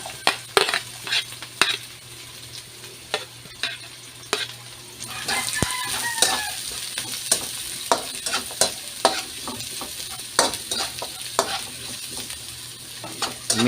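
Ginger, garlic and onion stirred in a hot pan for salmon-head sinigang, with a steady sizzle of frying and repeated scraping strokes of a utensil against the pan, close and fairly loud, with no talking.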